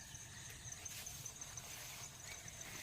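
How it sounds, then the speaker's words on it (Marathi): Faint, distant high-pitched peacock calls repeat through steady outdoor background noise on farmland after rain. "मोर पण ओरडत आहेत आवाज ऐकलात काय"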